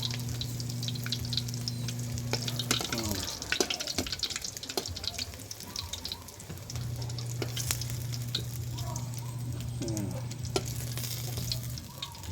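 Hotdogs frying in a pan at a rural breakfast: a continuous crackling sizzle with occasional scraping stirs, a low electrical hum running underneath for much of the time.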